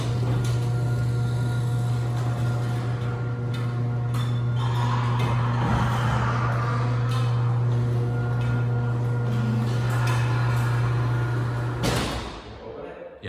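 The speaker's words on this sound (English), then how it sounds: "This is the garage door motor of my neighbor, and let's see how much noise and vibration does it do." A neighbor's garage door motor runs continuously with a loud, steady hum and strong vibration buzz, plus occasional clanks and rattles, then cuts off abruptly near the end.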